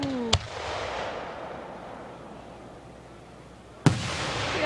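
Fireworks bursting outdoors: two sharp explosive bangs about three and a half seconds apart, each followed by a long crackling, hissing decay, loud and fairly close.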